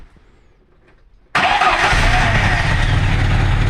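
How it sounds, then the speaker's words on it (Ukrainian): After a quiet moment, a Lada car engine abruptly turns over and roars to life, running loud and steady close by. "Машинка тепер заводиться."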